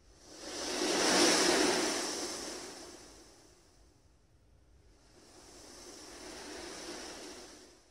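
Ocean waves white noise plays from a small speaker inside a compact Tokyo room, a soft steady wash of surf that swells, fades almost away, then rises again.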